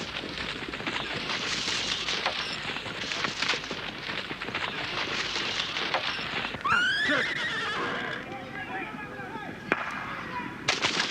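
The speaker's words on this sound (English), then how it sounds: "Out in the house paddock, the horses are flighty after running free all through the wet season" Horses in a Kimberley house paddock are herded, with hooves thudding and clattering steadily before a loud whinny rings out near the end. Further neighing follows among the hoofbeats.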